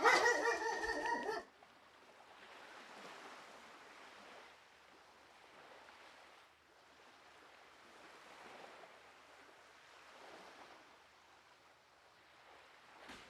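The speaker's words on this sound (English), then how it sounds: "My dog decided to be loud." A dog barks loudly in one short burst at the start, then the sound drops to a faint, steady wash of background noise.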